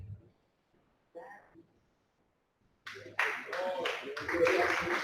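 A church congregation breaks into applause that starts after a quiet pause and builds into a dense, continuous clapping, with a voice heard briefly beforehand.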